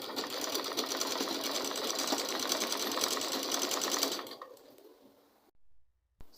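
Sewing machine running continuously as it stitches fabric for a spiral turban, a fast steady whirring buzz up close for about four seconds before stopping, followed by quiet handling noises.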